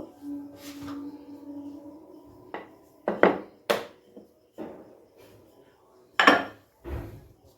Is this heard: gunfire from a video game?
no